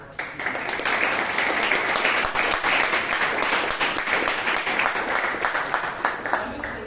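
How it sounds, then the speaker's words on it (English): Audience applause at a Toastmasters club meeting in Bangalore, dense steady clapping from a roomful of people, loud and sustained throughout. "can we have a big round of applause for us?"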